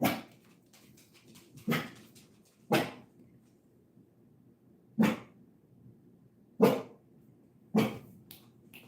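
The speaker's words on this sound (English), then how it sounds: "Don't mind my dog, by the way. He thinks there's a phantom car coming up the driveway he needs to alert me of." A pet dog indoors barks in single sharp woofs, about six spread irregularly over several seconds, moderately close with quiet gaps between, no talking.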